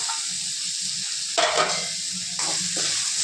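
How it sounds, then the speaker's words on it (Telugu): Oil in a pan of potato masala hisses steadily, then a sharp louder sizzle bursts up as tomatoes drop in, followed by a second flare of frying as the mixture is stirred. "టమాటోస్ వేసుకుంటాము."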